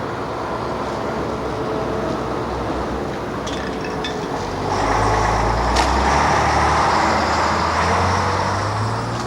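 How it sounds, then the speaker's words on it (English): A touring band's truck drives through France at 2 a.m., its heavy engine droning steadily with road noise, the rumble swelling louder midway as the truck pulls harder. "It's 2 a.m. French time, and for the 3 truck drivers, Martin, Mick and Brian, is the start of a long haul."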